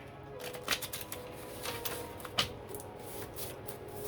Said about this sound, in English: These are papers, so they don't shuffle.